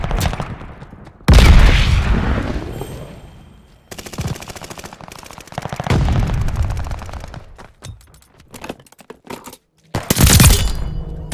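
Strafing-run gunfire in the Call of Duty Vanguard video game, loud rapid machine-gun bursts and fusillades in several separate volleys with short quiet gaps between them.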